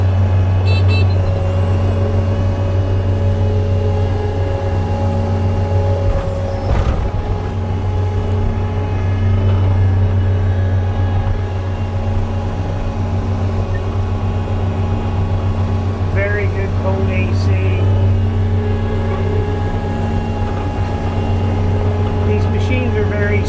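A 2022 Kubota SSV65 skid steer with cab idles nearby, its engine holding a loud, steady low hum throughout with a few faint clanks and a voice talking over it.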